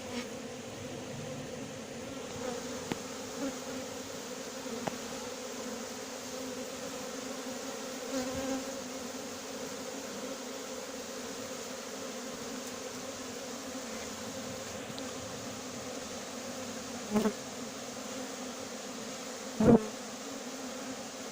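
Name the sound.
honey bee swarm buzzing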